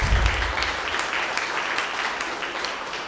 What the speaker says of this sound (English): a round of applause for our kids